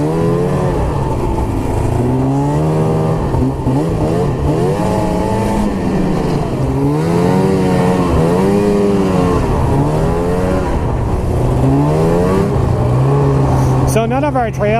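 A snowmobile with a spark plug fouling problem revs up and down repeatedly on its first ride of the 2020 season. The engine pitch swings up and down in loud, close waves that run the whole time.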